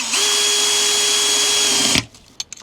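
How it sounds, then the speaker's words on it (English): A loud power drill whines steadily for about two seconds at constant pitch while drilling through a plastic rib inside an RV, then stops abruptly, followed by a few faint knocks. "Unfortunately, I got to drill through this rib."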